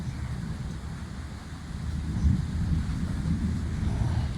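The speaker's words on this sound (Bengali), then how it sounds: "এত বিদ্যুৎ চমকাচ্ছে, মানে আকাশ ডাকছে এত জোরে জোরে" Low rumbling roar of a storm with steady rain hiss, the rumble swelling louder midway and lingering like distant thunder.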